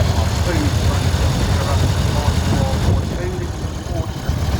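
A Ford Major tractor, essentially a Model M, idles at a steady low rumble nearby at an outdoor steam rally, with someone talking over the engine.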